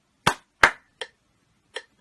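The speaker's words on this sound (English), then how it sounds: "So let me clap that again for you." Hand claps of paired eighth notes played against a metronome: two close, sharp claps, then two softer clicks spaced further apart, crisp and near in a quiet room.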